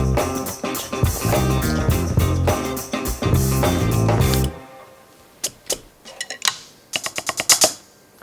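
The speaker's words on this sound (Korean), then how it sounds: "잘 하이햇 나오죠?" Hi-hat and drum strokes from a NUX electronic drum kit with a real hi-hat controller: a dense, loud groove for about four seconds, then a pause and a string of sharp, isolated cymbal-like hits.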